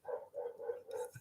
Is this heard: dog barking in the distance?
yes